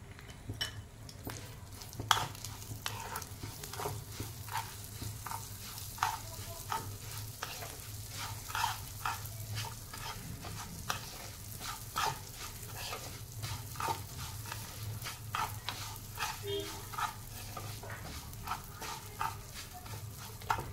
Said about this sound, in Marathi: लापशीसाठी पहिल्यांदा आपण तुपावर रवा भाजून घेणार आहोत